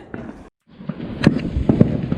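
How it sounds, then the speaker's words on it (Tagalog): Fireworks bursting on bonfire night in the UK, seen from a house rooftop: a steady crackling rumble with several sharp, loud bangs near the end, after a brief moment of quiet. "maraming fireworks ngayon"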